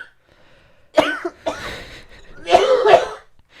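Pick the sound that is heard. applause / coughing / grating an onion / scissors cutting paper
coughing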